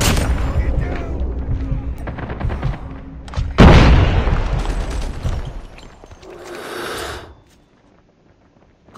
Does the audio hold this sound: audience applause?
no